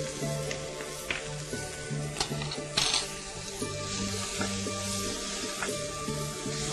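Paneer cubes and capsicum sizzle and crackle steadily in a hot pan, with small taps and pops scattered over a constant frying hiss, close and moderately quiet, no talking.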